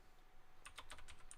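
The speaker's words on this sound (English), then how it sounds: "We hear the keyboards." Keys clacking on a computer keyboard, a quiet run of separate taps starting partway in, picked up faintly in the background of a sports podcast recording.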